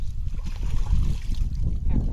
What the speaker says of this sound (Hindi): ये स्टीमर ये पेट्रोल से चलत है कि डीजल से?